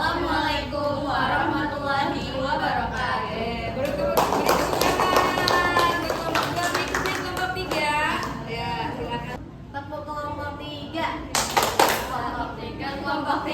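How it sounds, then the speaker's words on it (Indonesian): High school students in an Indonesian classroom break into a round of applause, dense clapping swelling in the middle and tapering off, mixed with chatter and children's voices. "Beri tepuk tangan"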